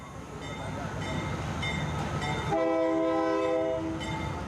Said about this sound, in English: The night train goes less quickly, so a chance for the young migrants to get on board more easily.